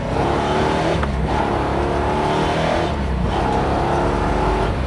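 A 1969 Pontiac GTO convertible's engine rumbles steadily while driving, a deep continuous drone with slight swells in revs, close and loud throughout.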